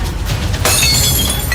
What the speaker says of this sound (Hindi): नीचे गिरते ही ग्लास एक तेज आवाज के साथ टूट गया